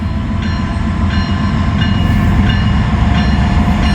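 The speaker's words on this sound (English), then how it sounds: "There's another Norfolk Southern train, an ethanol train, this time coming up through the back." A Norfolk Southern ethanol freight train rolling past near the track, a loud, continuous rumble with faint rhythmic wheel clatter throughout.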